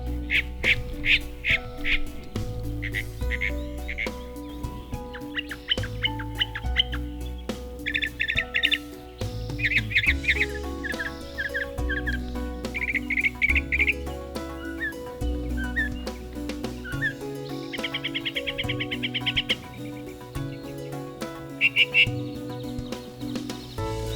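A northern mockingbird on a California island trail sings a long, varied string of repeated phrases, shifting between chirps, whistles and harsh quacking notes that mimic other birds, loud and close, with little talk.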